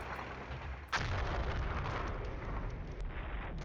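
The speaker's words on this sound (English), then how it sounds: "our artillery has shifted back at Ingersheim again, where we had some contact" Artillery fire in the wargame Flashpoint Campaigns: Southern Storm, one sharp blast near the start and then a steady, dense rumble of distant bombardment that holds without a break.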